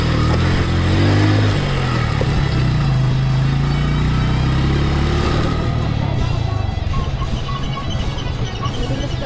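A motorcycle engine rumbles loudly and steadily on a slippery back road heading toward Barangay Mabuhay, a close, sustained drone with pitch shifts as it revs, then settling into rougher running.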